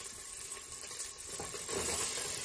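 Cauliflower, beans and potato dropped into a sizzling pan for vegetable kurma, a steady close hiss that swells louder as the pieces hit the hot oil, no one speaking.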